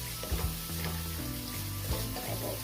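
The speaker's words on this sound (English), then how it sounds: "I'm just going to saute these a little" Scallions sautéing in a pot for one-pot Jamaican seasoned rice give off a steady, close sizzle and frying crackle, with soft stirring knocks underneath and a faint low hum throughout.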